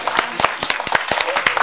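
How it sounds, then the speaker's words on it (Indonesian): A studio audience claps during an Indonesian comedy show, giving a near, loud, rapid patter of many hands with sharp individual claps and a voice faintly mixed in. "Sudah tepuk tangan, Bayo."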